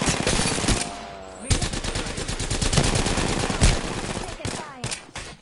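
Heavy automatic gunfire in a video game, long loud bursts of rapid shots with a short pause near the start and another near the end, close and dominant throughout.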